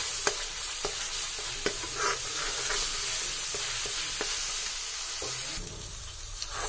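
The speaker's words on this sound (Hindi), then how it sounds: "मीडियम फ्लेम पर इसको अच्छे से बीच बीच में चलाते रहें" Onions frying in a pan on a medium flame give a steady sizzle and hiss, with regular scrapes and taps of a spoon as they are stirred; no voices.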